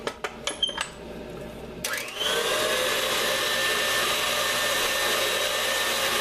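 A few light clicks and knocks, then an electric mixer starts and runs at a steady, even whir while mixing ginger shortbread cookie dough, fairly quiet and close.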